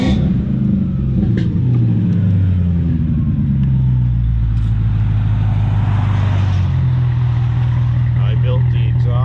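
A BMW E39 540i fitted with a custom-built exhaust fires up and settles into a loud, rumbling idle up close, with the low engine tone steady throughout and someone talking over it.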